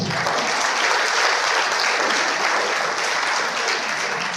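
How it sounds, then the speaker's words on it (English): An audience at a seminar session claps steadily, a dense, even wash of applause from many hands lasting several seconds, with no talk over it. "if it's good, we can just keep a clap"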